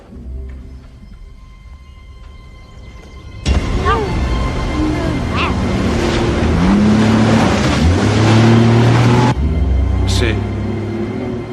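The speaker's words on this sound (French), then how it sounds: "C'est un moteur qu'on entend." A vehicle engine in an action film roars in loudly after a quiet opening, holding a steady rumble with rising revving pitch sweeps for several seconds before dropping back to a lower drone.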